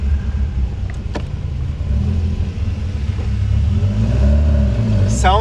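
Carbureted BMW 2002 engine droning steadily on the Nürburgring Nordschleife, a deep continuous rumble that swells slightly and rises toward the end, with voices talking over it.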